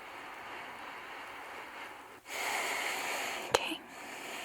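Deep, close breaths are drawn and released during an ASMR doctor-visit roleplay: after a quiet pause, a long airy inhale and exhale follows, ending in a short sharp sniff-like catch.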